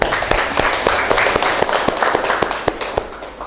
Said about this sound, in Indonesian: Beri tepuk tangan untuk kalian semuanya